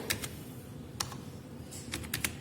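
Quick, uneven bursts of keystrokes on a computer keyboard as C program code is typed, with short pauses between the clusters; fairly close and quiet, with no voices.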